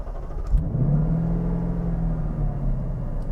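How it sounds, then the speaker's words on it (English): A Lexus LC500 engine starts up with a low rumble and settles into a steady, loud idle close by. "put foot on the brake, and I'm going to start it up now"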